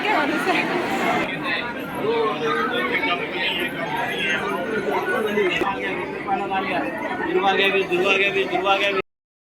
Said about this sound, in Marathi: थोडी गर्दी